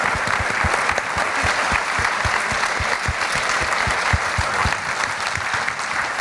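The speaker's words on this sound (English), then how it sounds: "Can I have a huge round of applause from our panel tonight?" Audience applause for an evening panel, dense sustained clapping from a sizable crowd in an event hall, even and steady with individual claps popping out, no talk over it.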